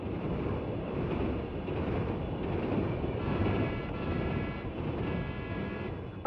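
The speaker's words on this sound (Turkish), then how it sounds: "Tren geçiyor, çok gürültü var." A passing train makes a continuous, heavy rumble and roar that stays loud and steady throughout, with faint squealing tones mixed in toward the middle and no voices over it.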